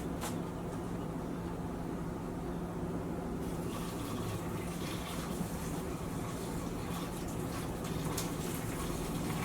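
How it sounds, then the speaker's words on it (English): Noodle cooking water being drained from a pot, a continuous soft splashing pour that runs steadily throughout, close and fairly quiet, with a brief sharper clatter near the start and no talking. "Just drain a little bit of the water out."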